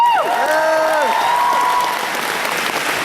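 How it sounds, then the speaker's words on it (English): Audience applause opening an anime convention in Edmonton, a steady wash of clapping from a crowd that carries on for several seconds at full volume, with faint whistling tones on top. "Give him a hand."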